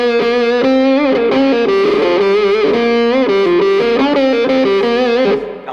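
Electric guitar through a wah pedal, loud and continuous, with distorted, sweeping sustained notes that shift in tone across a steady riff.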